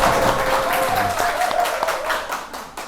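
A church congregation claps in welcome during a Sunday service, a loud sustained round of applause from a crowd indoors with some voices mixed in.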